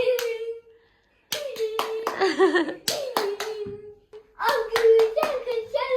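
A toddler claps hands in a few sharp, close bursts between adult voices coaxing and a child vocalizing, in a quiet home setting.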